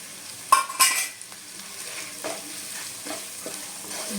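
Taro curry sautéing in a pan with salt and turmeric, a soft continuous sizzle broken by a few sharp scrapes and clacks of a spatula stirring against the metal.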